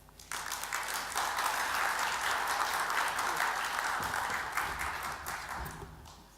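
An audience at a 2017 business symposium applauds as a speaker steps up to the lectern, a dense, steady wash of many hands clapping that swells quickly, holds for several seconds, then tapers away.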